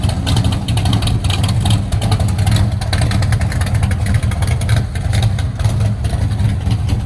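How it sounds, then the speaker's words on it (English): A 1957 Chevy pickup truck engine rumbles steadily at a car cruise on the Gulf Coast, a deep continuous drone with some revving as it passes close by, mixed with background street noise. "Comes a 57 Chevy pickup truck that sounds really good."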